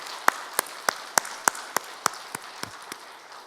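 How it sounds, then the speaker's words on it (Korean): A church congregation claps in unison to give glory to God: about eleven sharp, evenly spaced claps in a brisk steady rhythm that fade slightly toward the end. "우리 하나님께 영광 박수 한번 같이 드리겠습니다."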